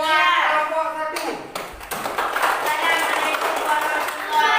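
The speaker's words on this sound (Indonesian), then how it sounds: "Tepuk tangan buat kelompok 1." Children applaud a presenting group at school, a dense, fast patter of many hands clapping that swells after a brief pause, mixed with voices.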